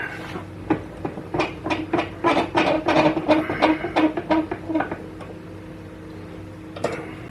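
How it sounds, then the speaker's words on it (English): Parts squeezed together in a small bench press in a machine workshop, a rapid series of mechanical clicks and creaking thuds for a few seconds, then quiet hum. "Put it in the Bush Mechanics press and just push it together."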